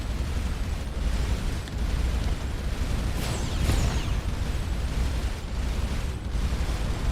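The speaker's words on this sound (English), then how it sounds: "Oh, that's a cannon." Cannon fire rumbles through a dense, continuous roar of space combat in the game Starcom: Unknown Space, with booming explosions and a brief swooping burst near the middle.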